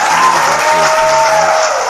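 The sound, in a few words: applause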